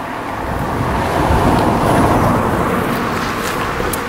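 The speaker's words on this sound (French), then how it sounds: "Donc il y a des voitures, comme là par exemple." Cars passing on a road beside a cyclist on a ride from Paris to Le Havre, a loud, steady roar of nearby traffic that swells slightly in the middle.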